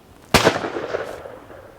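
A single sharp shotgun blast firing steel shot, close and loud, with a sudden onset and a decaying outdoor echo tail lasting over a second, no talk.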